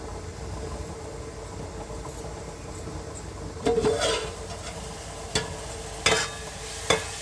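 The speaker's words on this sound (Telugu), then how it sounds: "ఉల్లిపాయ ఆల్రెడీ వేగిపోయింది, దగ్గర పడిపోయింది." Onions frying in a pan with turmeric and salt give a steady low sizzle, with louder bursts of stirring and spoon scrapes against the pan later on.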